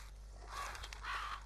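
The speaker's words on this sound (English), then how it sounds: "Birds!" Crows caw in Slender: The Arrival on PS4, two harsh, quiet calls spaced apart over a low background hum, with no one talking.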